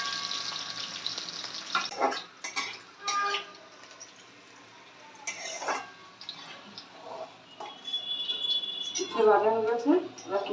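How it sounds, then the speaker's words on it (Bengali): Vegetables fry in oil with five-spice seasoning (panch phoron), with scattered clinks of a utensil and a bubbling sizzle that grows toward the end, close and moderately loud. "এবার আমি সেগুলো একটু ভেজে আগে তুলে রেখে দেবো ওর মধ্যে"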